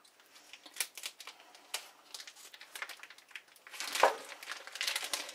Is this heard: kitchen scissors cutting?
yes